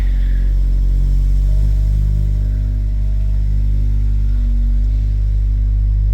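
Acura Integra A-spec fitted with an MBRP exhaust and catted downpipe, driving off a driveway in a neighborhood; a steady, loud low engine drone with slight pitch shifts as the car pulls away, no talking.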